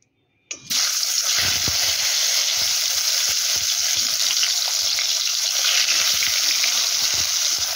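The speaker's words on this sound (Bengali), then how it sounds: "তেল ভালো মতো গরম হয়ে গেছে, এবার আমি কাঁকরোলগুলোকে ভেজে নেব।" Spiny gourd (kakrol) pieces hit hot mustard oil with a sudden loud burst, then a steady, dense sizzle of deep frying continues close by, with a few faint clinks underneath.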